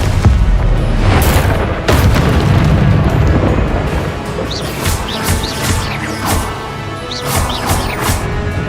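Repeated Confringo fire-blast spell explosions in the Hogwarts Legacy video game: heavy booming bursts in quick succession, loud and close, followed by softer crackling blasts with sharp high whooshes.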